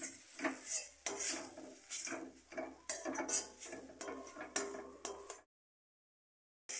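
Fish and potato curry with turmeric being stirred in a pan, spoon scraping and clinking against the metal in repeated strokes, fairly quiet, then cutting to silence near the end.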